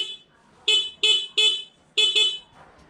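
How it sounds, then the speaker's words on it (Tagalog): Car horn fitted with a passing light, honking five times close and loud in an even rhythm of short blasts, the last two nearly joined. "kung paano magkabit ng busina na may passing light na kagaya nito"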